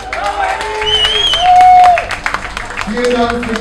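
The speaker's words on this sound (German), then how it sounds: "dicken Applaus für dich, für die ganze Moderation heute" An audience claps and cheers for the event host, a dense patter of hand claps with whistle-like tones and crowd noise over a few seconds.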